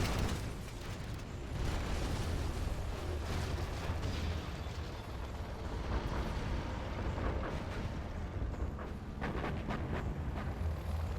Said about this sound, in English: Carpet bomb coming in, and might be shot down by the Helix.